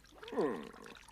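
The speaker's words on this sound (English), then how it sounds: "Thousands and thousands of drops of water fall to Earth." Cartoon rain, thousands of water drops falling to earth, comes as a brief pouring, trickling gush that swells and fades within about a second, alone and fairly soft.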